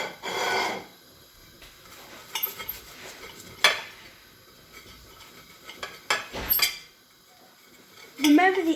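Toast being sliced into soldiers for dippy eggs, a knife scraping and rasping against crisp bread on a board, with a few sharp clinks of cutlery on a plate in short separate bursts.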